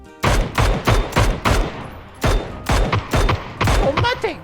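Rapid gunfire from a shooting video game: about eight loud, close bursts of shots in irregular groups, each a sharp crack with a short tail, with a brief lull in the middle.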